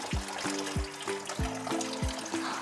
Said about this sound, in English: When you're adding fresh tap water back into the tank